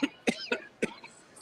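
Three or four short, dry coughs in quick succession, close and fairly loud, with a brief pause before the last one.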